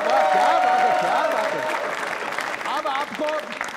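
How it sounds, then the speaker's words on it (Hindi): Audience at a quiz show applauds in a steady patter of clapping while someone talks enthusiastically over it, his voice clear above the crowd for most of the clip. "तालियां जोरों से बजाइए माथुर साहब के लिए।"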